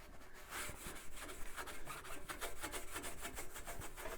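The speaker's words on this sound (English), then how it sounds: "now all we're going to do is give it a nice scrub" Scrubbing inside an oven coated with a baking soda mixture: a steady run of close, rough rubbing strokes in quick rhythm, like a brush or pad worked back and forth, with no talk.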